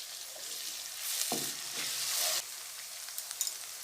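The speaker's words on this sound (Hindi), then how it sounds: "हमारे प्याज ब्राउन हो गए हैं। इसमें हम अदरक और लहसुन का पेस्ट डालेंगे" Ginger garlic paste hitting a hot pan of browned onions for chicken shorba, a steady close sizzle that swells for about a second, then drops back, with a few light clinks at the end.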